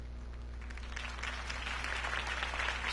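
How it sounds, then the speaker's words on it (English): Crowd applause after a campaign speech in the Batman Telltale video game, a steady wash of clapping that swells slightly and continues throughout, with no voices over it. "If only Mr. Wayne, my campaign's largest backer, could have heard that applause"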